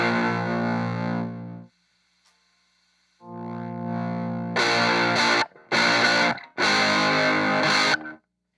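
Electric guitar through a pedal's distortion side with the violence knob cranked, giving a super sputtery overdriven tone: two sustained chords, then a run of loud, abruptly cut bursts separated by short silences.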